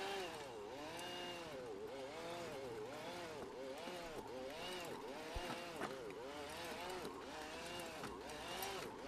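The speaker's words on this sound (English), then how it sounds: "we can actually prepare this soil sort of a quicker way by using this electric cultivator" A Troy-Bilt electric garden cultivator tills soil with a continuous whining motor. Its pitch rises and falls in repeated cycles as the tines dig in. There is a faint thump partway through.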